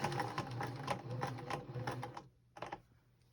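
A sewing machine stitches binding onto a star table topper, a steady rapid needle chatter for about two seconds, then a pause and one short final burst.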